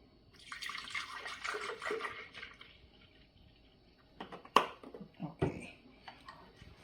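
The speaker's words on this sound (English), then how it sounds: "I'm going to put some milk in here." Oat milk pours into a blender in a steady splashing stream for a couple of seconds, followed by a few sharp knocks and clatters from the container.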